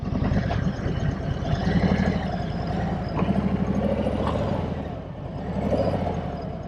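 A Harley-Davidson Tri Glide Standard in black rolls off on a spin test, its engine rumbling low and steady close by and swelling in a few gentle surges.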